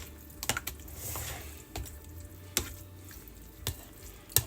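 A utensil beats eggs and milk in a bowl for a Mexican casserole, giving sharp intermittent clinks and scrapes against the bowl with soft swishing in between. The sounds are spaced irregularly and are fairly quiet.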